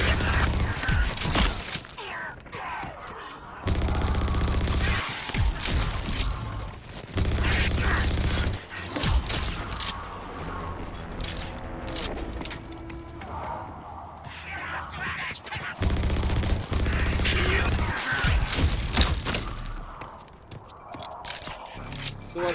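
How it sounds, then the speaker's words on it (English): Gravity shot weapon firing in Rage 2, loud bursts of gunfire in repeated volleys at close range, with heavy low booms and a voice speaking at times between shots. "it's called the gravity shot"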